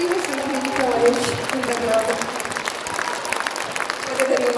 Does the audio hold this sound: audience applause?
yes